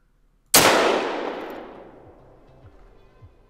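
A single 9.3x74R rifle shot fired at an axis buck while hunting Parque Fernando in TheHunter Call of the Wild: one loud, sharp crack with a long rolling echo that fades over several seconds, followed by faint soft thuds.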